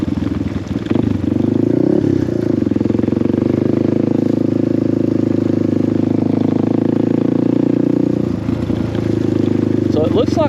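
A Suzuki DR350 dual-sport motorcycle engine idles and hums steadily at close range with a rough aftermarket exhaust note, a couple of brief revs and clatter.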